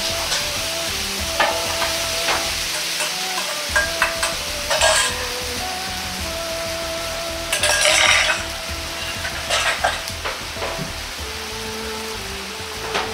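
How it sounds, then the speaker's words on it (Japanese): Shiitake soaking liquid and seasonings hit a pan of braising chicken thigh, setting off a steady sizzle with scattered clinks and stirring scrapes, close and continuous with no talk. "椎茸の戻し汁と調味料を合わせたものを入れます。"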